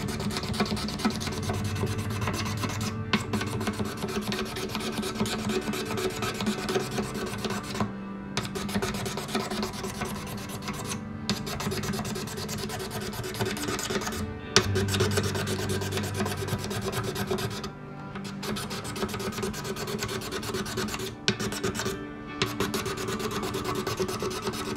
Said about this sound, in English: take the razor blade and lightly scrape, removing any type of grime or finger dents, divots